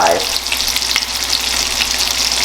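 A NY strip steak sears in butter in a cast iron pan, a loud, close, continuous sizzle with an even spitting crackle that does not let up over a couple of seconds, with no speech.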